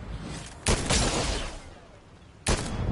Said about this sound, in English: Now there's two people shooting at me